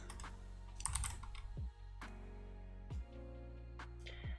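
Typing on a mechanical keyboard with blue clicky switches, a run of crisp, sharp clicks in uneven bursts with short pauses, heard close over a low steady hum.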